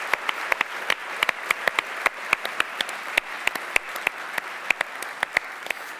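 Scattered applause from a small audience at a sailing event presentation, with sharp individual claps standing out over a softer bed of clapping, sounding close and fairly sparse rather than a full roaring ovation.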